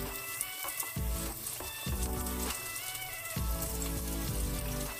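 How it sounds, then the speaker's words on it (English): Onion dropped into hot oil for a red cabbage salad, giving a steady crackling sizzle with bursts of spattering as pieces hit the pan, close and fairly loud, with no voices. "Our oil has already heated up, so it's time to add the onion, so it can slowly soften."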